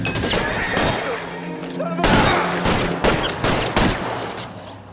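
Shotgun blasts and other gunfire crack in the video game L.A. Noire, with several loud, close shots in quick succession and a brief pause between volleys.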